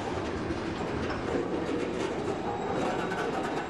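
A freight train rolls steadily past at close range, with a continuous loud rumble and rhythmic clatter of wheels over rail joints, no voices.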